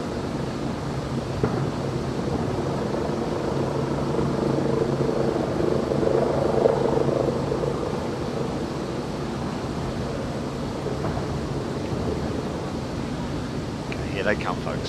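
Military helicopters, including Wildcats, Merlins, Pumas and Chinooks, pass in the Queen's Platinum Jubilee flypast over London, a steady distant rotor rumble lasting throughout, blended with crowd noise.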